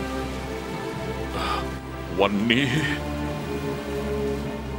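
Heavy rain pours down steadily in a wide, hissing wash, with voices and a rising tone layered over it in a period drama set in ancient China.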